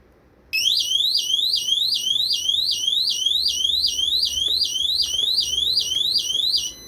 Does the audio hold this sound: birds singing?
no